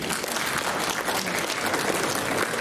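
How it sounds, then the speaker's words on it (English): Dense, loud applause from a church congregation at a family service, a continuous wash of clapping filling the brief moment without a pause. "It's a round of applause."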